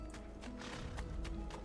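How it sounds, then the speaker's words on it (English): A horse in the video game Assassin's Creed 2 trots with rapid, evenly spaced clip-clop hoofbeats, fairly quiet against a low background rumble. "Where's the horse? There's a horse."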